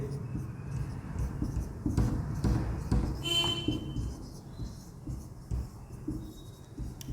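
A pen or marker scratches out an Instagram page name on a board or paper in a vocabulary class, giving irregular short scratchy strokes with pauses, close and moderately loud, over faint room noise.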